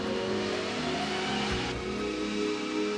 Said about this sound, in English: This car is going 30 miles an hour.